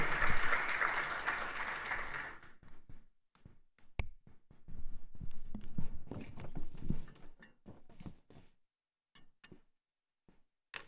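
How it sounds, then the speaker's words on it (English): A temple congregation at a Sunday service gives a short burst of applause that fades after a couple of seconds, leaving scattered claps, taps and shuffling noises in a quieter room. "Round of applause, please, for wonderful rendition."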